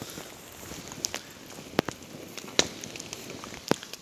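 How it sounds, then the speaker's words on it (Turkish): A campfire burning on snow outdoors gives off sparse, sharp crackles and pops over a low steady hiss, with a few louder snaps standing out from the quiet background. "Doğadaki insan Tatar Ramazan ateşini yaktı."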